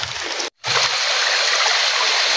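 Mountain spring water flows steadily at a natural spring, a loud continuous rushing that is cut by a brief dropout early on and then resumes unbroken.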